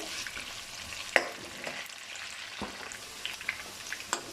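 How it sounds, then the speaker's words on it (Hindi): Potatoes frying over a high flame for aloo gosht, with a steady crackling sizzle and a few sharp clinks of a spoon against the pan, no voices. "फ्लेम हमने हाई रखी है और हाई फ्लेम पे हमने इसको भून लेना है"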